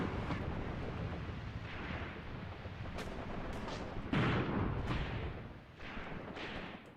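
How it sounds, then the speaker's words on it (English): Mortar rounds fire and burst in Graviteam Tactics: Mius Front, a dense wartime soundscape where several sharp booms and thuds punch through continuous rumbling noise, one heavier, nearer blast standing out midway. "Right, I need to get those mortars firing."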